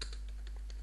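Typing on a computer keyboard, with a few faint, quick key clicks in an uneven rhythm over a steady low hum.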